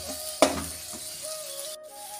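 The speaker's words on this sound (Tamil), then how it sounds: "இதையெல்லாம் நீ அந்த எண்ணெயிலே நல்லா வதக்கிடுவோம்." Onion with turmeric, chilli powder and chicken powder sautéing in oil. A sharp clink of a utensil against the pan comes first, then a faint sizzle with light stirring, close and quiet, with no voices.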